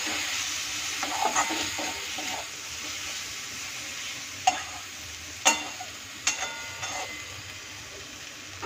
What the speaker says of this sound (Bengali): হাফ টিস্পুনের মতো ধনে গুঁড়ো, দিয়ে এটা নেড়ে নেব।